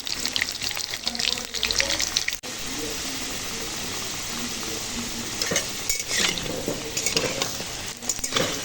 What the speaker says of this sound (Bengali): দেখো এখন আলুটা ভাজা হয়ে গেছে আর তুলে নেব